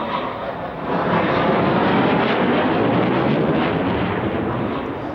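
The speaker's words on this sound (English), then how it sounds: "So here are 4 of the Phantoms of 56 Squadron breaking from Echelon Port." Four Phantom jet fighters of 56 Squadron breaking formation, a loud sustained jet roar that swells after the first second and holds steady, with wind buffeting and no voices.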